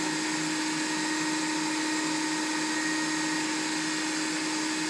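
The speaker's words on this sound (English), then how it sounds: "just going to process all into a yummy paste" A food processor whirs continuously as it blends basil and parsley into pesto, a steady, high-pitched motor whine that stays even and uninterrupted throughout.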